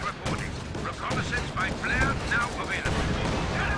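Tank fire from Company of Heroes 2, with an M10 Jackson and a Sherman shooting at a German headquarters, heard as repeated booming shots and battle noise under an excited commentator's voice.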